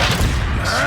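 A Confringo fire spell explodes in Hogwarts Legacy, a loud, dense burst of booming, rumbling blast noise that fills the whole moment with heavy low thuds and crackle.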